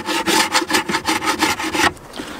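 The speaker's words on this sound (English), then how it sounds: "The next thing to do is to scrape all the way around and just remove as much of the propolis and wax as you can." A hive tool scrapes propolis and wax off a wooden bee hive in rapid, rhythmic back-and-forth strokes, close and raspy, about ten passes before stopping.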